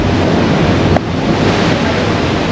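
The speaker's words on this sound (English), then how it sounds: "It's a little windy." Strong wind roars across the microphone on a cruise ship deck over the wash of choppy, whitecapped sea, a constant heavy rumble with no talking.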